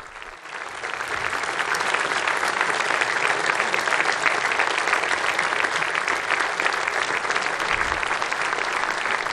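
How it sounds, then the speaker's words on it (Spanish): A large audience of authorities in Bratislava applauds Pope Francis, a sustained, dense roar of clapping that swells in the first second and then holds steady and loud. "Este es el aplauso que recibe el Santo Padre"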